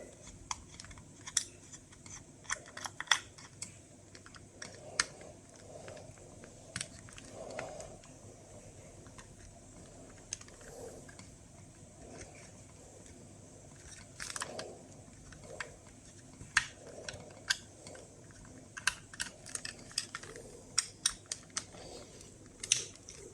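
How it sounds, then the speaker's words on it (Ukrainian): Small bolts being screwed into an SRP-88 dosimeter, heard as quiet, close, irregular metallic clicks and ticks from the screwdriver and parts, with faint handling noise and no talk. "Закручуємо і 4 болти."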